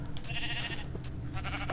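Sheep bleating in Minecraft as it is attacked and killed, short in-game bleats over a steady low game background, no talking.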